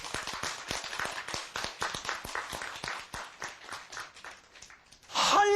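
A lecture audience applauding, a run of many close, quick claps in a ragged rhythm that thins out over a few seconds before a louder burst of other noise at the end.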